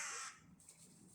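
Carrion crows caw in a short, harsh burst outdoors at a moderate distance, fading quickly into soft background ambience.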